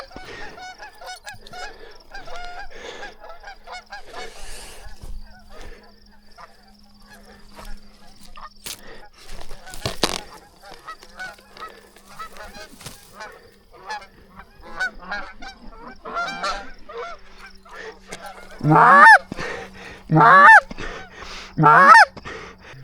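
A flock of geese honks repeatedly while flying overhead on a waterfowl bow hunt, with scattered calls building to three loud, close honks near the end.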